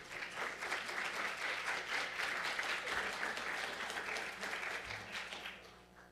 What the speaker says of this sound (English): Yeah, another round of applause.